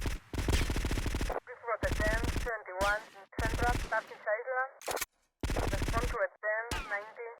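Automatic gunfire in GTA Vice City Definitive Edition, with loud repeated bursts of shots broken by short gaps and sharp reports alternating through the stretch, and no talking over it.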